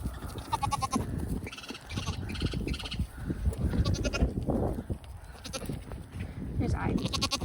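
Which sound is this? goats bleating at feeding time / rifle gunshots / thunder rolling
goats bleating at feeding time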